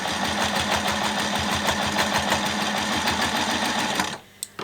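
A sewing machine stitching a seam, with a fast, even mechanical chatter of the needle running steadily for about four seconds before it stops, followed by a couple of faint clicks.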